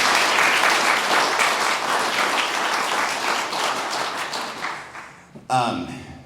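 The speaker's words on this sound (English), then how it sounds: "So please give them a big round of applause" An audience at a public meeting of residents opposing a proposed regional airport breaks into loud, dense applause that holds steady for several seconds, then fades and stops, followed by a brief voice.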